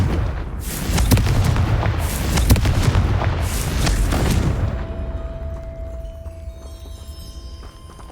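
Confringo fire spell from Hogwarts Legacy bursting in several loud, booming blasts over the first four seconds, then fading into a quieter rumble with a steady tone.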